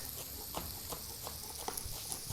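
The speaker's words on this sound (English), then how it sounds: "Oh, do you hear that sizzle?" Quiet, steady sizzling of bacon frying in a pan, with soft crackles and pops over a constant hiss.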